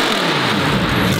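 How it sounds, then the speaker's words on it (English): The warmed-up engine of a Lamborghini Evo 2 race car revs hard, giving a loud, close, continuous roar that holds steady throughout. "Who wants to hear a rev when it's warm?"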